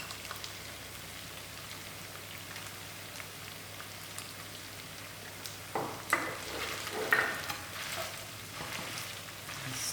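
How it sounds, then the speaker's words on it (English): Mixed vegetables being stirred into fried mince in a pan: a soft, steady sizzle throughout, with a few louder scraping stirs toward the end and no talking. "Stir it well."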